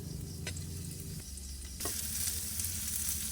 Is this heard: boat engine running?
no